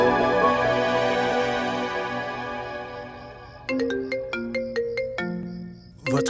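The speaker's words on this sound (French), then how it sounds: "Votre téléphone sonne." A phone ringtone plays a melodic sequence of bright electronic notes, moderately loud. A brief sustained tone comes first, then a rhythmic pattern repeats, with no talk over it.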